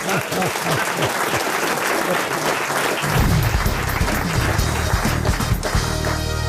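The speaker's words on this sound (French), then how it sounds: "Madame Mériadec à Laval qu'on applaudit." Studio audience applause on a French radio comedy panel show, a full burst of many hands clapping under lively voices and a brief musical jingle, building louder partway through and carrying on to the end.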